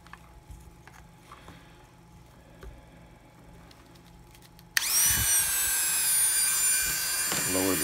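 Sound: cutoff wheel cutting plastic casing of Surface RT

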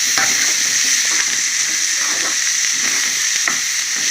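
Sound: onions and green chillies frying in a pan

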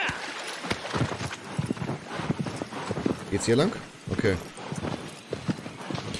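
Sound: horse hooves clip-clopping in video game Shadow of the Colossus

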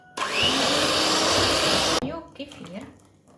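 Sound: electric mixer beating cake batter

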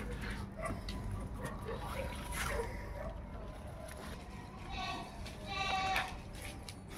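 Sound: Ajmera goat bleating

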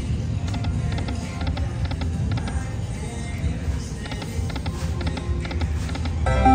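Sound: slot machine spinning

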